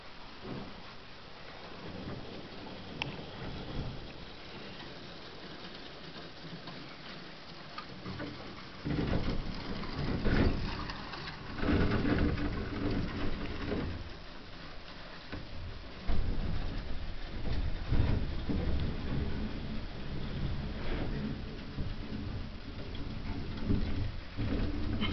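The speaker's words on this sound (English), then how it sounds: "you can hear the sound of the ice against the hull" Low, deep grinding and knocking as ice scrapes against a narrowboat's hull, with irregular cracks and thuds building in loudness, no voices.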